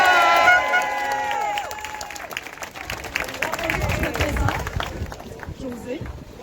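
Crowd at a peaceful citizens' protest rally against Law 61 applauds and cheers in a burst of clapping and shouts, with voices and an announcer's speech mixed in at the start.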